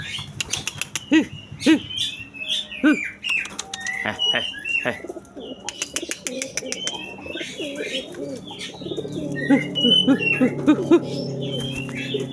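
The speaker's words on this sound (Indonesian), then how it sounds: "ini termasuk merpati yang untuk setut tinggi ya, setut kencang nih ya" Racing pigeons bred for high, fast flight coo and call close by, with sharp clicks and wing flaps early on, then a steady chorus of low, rolling coos.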